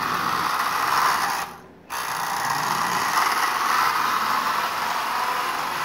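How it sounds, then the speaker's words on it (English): A dry, unlubricated motor and armature in a Marx 1998 diesel toy train runs with a steady, loud whirring grind, briefly dipping near the start before resuming at an even level. "That armature is really dry. I can tell that just by the sound of the motor."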